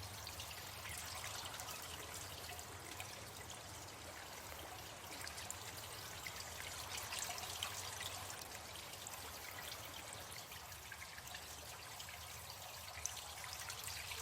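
Rushing water in the Colossal Cave adventure game on PS5, a steady, fairly quiet stream of flowing, trickling water that runs evenly throughout with no voices.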